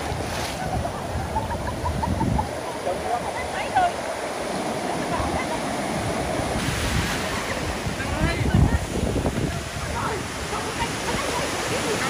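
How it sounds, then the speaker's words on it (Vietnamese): Strong sea waves at Cồn Đen beach, Thái Bình, surging and crashing continuously with heavy wind buffeting the microphone, with voices faintly in the mix. "Giờ sóng nó càng ngày càng mạnh."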